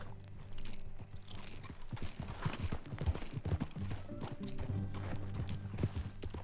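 Horse hooves clip-clop steadily on hard ground at a walking pace in Red Dead Redemption 2, moderately close, with faint background ambience.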